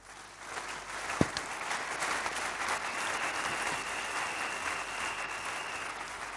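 A church congregation applauding the Lord, a steady crowd of clapping hands that swells after a sharp knock and holds at a moderate, even level in a reverberant room, with no voices on top.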